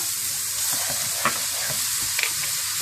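Ingredients for Chinese rice stir-frying in a hot pan, a loud continuous sizzle broken by the scraping and clatter of a spatula tossing the food.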